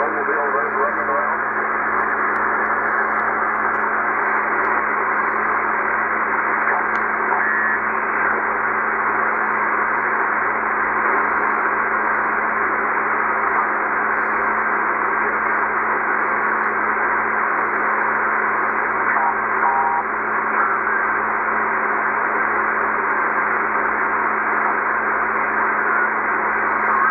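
A Tecsun PL-990x shortwave radio in USB mode, tuned by hand across the 20 meter amateur band, gives a steady band-limited hiss and muffled sideband voices for the whole stretch, constant and fairly loud with no pauses.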